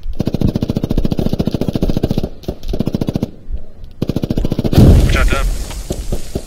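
Gunfire in the Squad video game, loud rapid automatic bursts in long strings with brief pauses, then a heavy grenade blast near the end, while players talk over radio.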